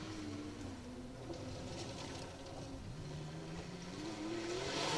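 A rally car engine accelerates along a 2WD gravel stage at the Woodpecker Stages Rally, its tone climbing and falling through gear changes, heard from a distance and growing louder toward the end.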